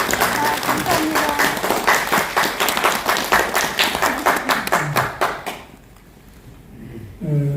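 An audience at a Korean cultural arts federation gathering applauds, sharp individual claps forming a steady loud patter for several seconds before fading to near quiet, after which a speaker's voice resumes.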